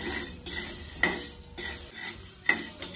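Sago pearls being stirred while dry-roasting in a pan, with steady scraping and rattling of a utensil against the pan and a few sharper clinks at intervals.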